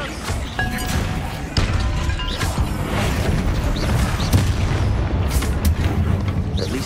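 A Bombarda spell blast in Hogwarts Legacy, set inside a spider-infested tomb, lands as a heavy booming explosion with crashing debris, followed by a sustained loud rumble and scattered impacts.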